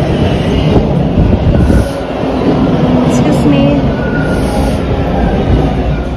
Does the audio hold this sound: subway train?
yes